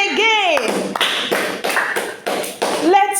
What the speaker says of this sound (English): Clap for wisdom